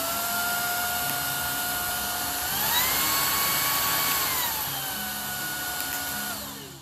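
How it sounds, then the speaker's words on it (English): Shark Pet cordless stick vacuum running steadily: a loud, close, high motor whine that rises in pitch when max power is switched on, holds there, then drops back, with no voices. "that's just going to give you a little bit of extra suction power while you are vacuuming"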